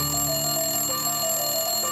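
A telephone rings in a steady electronic tone that holds for about two seconds, loud and close, then cuts off abruptly, with no voices alongside it.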